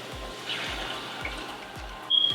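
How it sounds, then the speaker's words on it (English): A cup of water is poured into a pan of pork, a soft steady trickling splash that ends in a brief sharp clink near the close. "And then I'm just gonna add a cup of water."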